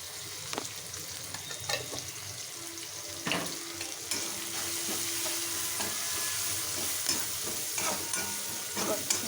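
Vegetables dusted with turmeric fry in a pan, giving a steady, soft sizzle while a utensil scrapes and stirs through them in irregular strokes, close and fairly quiet.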